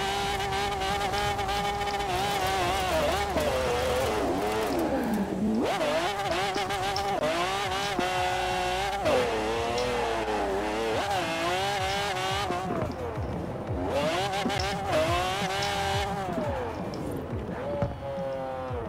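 A race car in the video game Forza howls continuously under acceleration, its engine pitch sweeping up and down through gear changes and corners for the whole stretch, with a player's voice intermittently over it.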